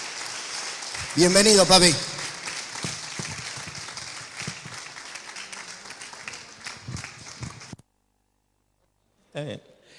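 Applause from a church workshop audience welcoming a preacher to the stage, a loud burst of clapping early on that tapers under talk and crowd noise before cutting to silence, with a short burst near the end.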